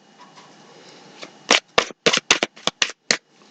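Universal Tarot cards are shuffled by hand in a quick run of about eight crisp, papery riffling bursts, close and clear, after a quiet lead-in.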